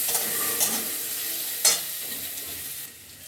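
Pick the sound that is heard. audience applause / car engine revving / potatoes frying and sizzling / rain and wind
potatoes frying and sizzling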